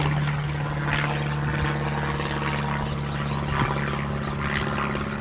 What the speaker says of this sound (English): It's a biplane.